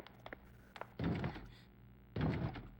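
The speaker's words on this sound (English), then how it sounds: "That little banging? That's because a zombie's trying to come in here." A zombie bangs on a door in the game Resident Evil Outbreak File 2, two heavy, booming thuds about a second apart, after a few softer knocks, in an otherwise quiet room.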